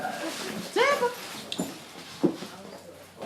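A puppy gives a few short, faint whimpers and yips, one high rising whine followed by two brief squeaks, against quiet background noise.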